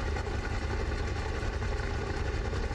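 A Grumman Goose's engines idle steadily in Microsoft Flight Simulator after starting, a continuous low, even drone at moderate level with no talk over it.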